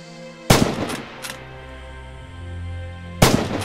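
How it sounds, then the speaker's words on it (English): A scoped Kar-98 sniper rifle fires in the Red Orchestra 2 video game: two loud, close, sharp shots about three seconds apart, each trailed by a short echoing tail and bolt-action clatter over a low rumbling background. "This is the standard Kar-98 with a sniper scope fitted"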